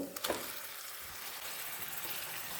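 Half a kilo of bone-in chicken is stirred into frying masala in a pan for a Tamil chicken kulambu, producing a steady close sizzle with a faint scrape near the start and no talk.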